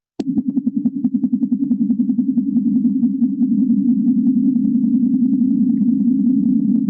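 A sped-up sonification of a red giant star's oscillations starts suddenly with a fast, fluttering pulse. It settles into a deep, continuous, loud drone that carries on alone to the end.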